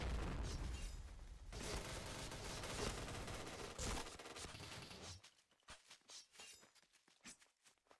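Loud bomb blast and gunfire in the Point Blank shooter game, a thick roar with booming hits, then sparse sharp pops fading out.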